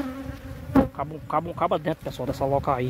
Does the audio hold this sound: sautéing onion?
no